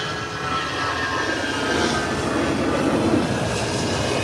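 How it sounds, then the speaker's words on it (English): An American Airlines airliner's jet engines roaring during its takeoff run, a broad, loud, sustained rumble and hiss that holds steady without letting up. "You can hear the roar of the engine."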